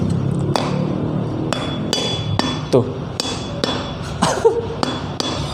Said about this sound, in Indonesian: Tapi kalau belum matang, suaranya seperti ini, dia sedikit nyaring